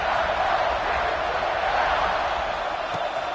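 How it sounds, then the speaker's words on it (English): A stadium crowd in a college football video game roars in a steady, dense wash of cheering that holds at an even level throughout, with faint commentary mixed in. "this crowd is feeling themselves after that last drive"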